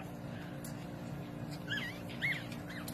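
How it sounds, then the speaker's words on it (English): Chihuahua puppies whimpering in a litter of eleven, faint high thin squeaks rising twice over a steady low background hum, no talk. "You guys, there's 11 puppies."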